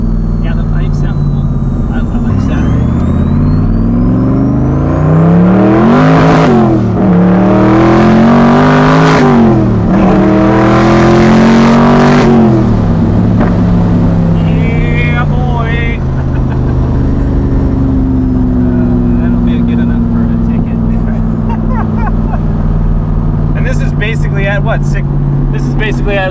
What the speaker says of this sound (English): Yeah, the pipes sound cool.